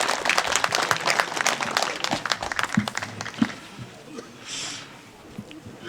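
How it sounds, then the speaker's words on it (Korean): An audience at a Korean public history rally at Hamchang station claps to welcome a speaker. It is a dense burst of many hands that thins out and fades after a few seconds, with a few scattered claps left. "이완영 대표님을 박수로 맞이해 주시기 바랍니다"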